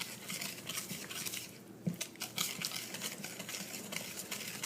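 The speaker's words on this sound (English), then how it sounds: "get these wet ingredients mixed up together" Wet cake batter ingredients for a pumpkin roll are stirred in a bowl, giving a close, continuous clatter of utensil scraping and tapping against the bowl with a few sharper clinks.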